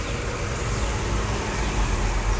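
Maruti Suzuki Ertiga engine idling around 750 RPM with the cooling fan running, a steady even drone throughout, loud and close, no speech.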